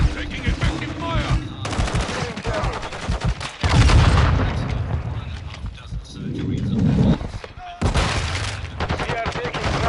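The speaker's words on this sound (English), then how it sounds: "Taking effective fire." Sustained automatic gunfire and bursts in Call of Duty Modern Warfare 2 multiplayer, loud and continuous with booming impacts, under radio-style voice callouts throughout.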